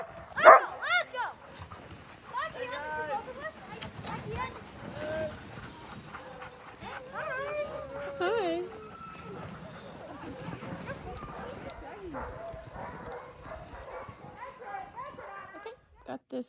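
Sled dogs barking, yipping and whimpering in an outdoor winter setting, excited cries scattered throughout at moderate distance while a person speaks over them.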